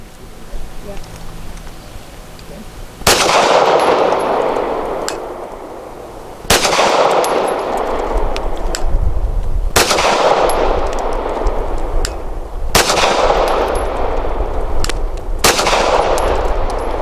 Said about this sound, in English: 5 shots from 7 yards. Archon 124 grain match jacketed hollow points at the bottom right target.